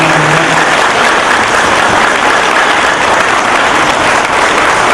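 Loud, dense applause from an audience at a Lions club honoring ceremony, continuous clapping filling the whole stretch without letup, close and steady.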